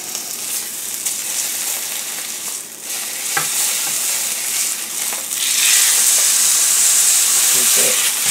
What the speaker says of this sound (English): There's a bone in, so I only need to sear the sides obviously that the bone's not at.